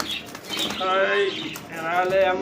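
A restless Baghdadi black racer pigeon flaps its wings in brief flurries of fluttering, close by, with a voice heard faintly beneath.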